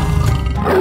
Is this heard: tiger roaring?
yes